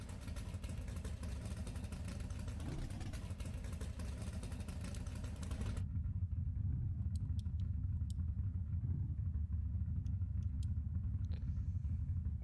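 Drag car engine in BeamNG.drive, a loud steady low rumble that drops to a deeper idling drone partway through, with faint high ticks over it and no talk.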